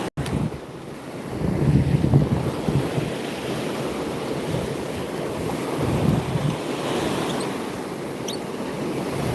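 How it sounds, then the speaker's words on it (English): Ocean surf breaks on a cool-weather Atlantic beach in a steady, rushing wash with swells rising and falling, heavily mixed with wind buffeting the microphone and no speech. "you see the way the waves are crashing"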